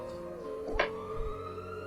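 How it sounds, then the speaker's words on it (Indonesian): An ambulance siren sounds faintly while the vehicle drives at high speed toward a hospital, a steady wailing tone with a few brief bumps and knocks over road noise. "Suara sirine terus memekakkan telinga mengiringi ambulan yang sedang aku kemudikan melaju dengan kecepatan tinggi."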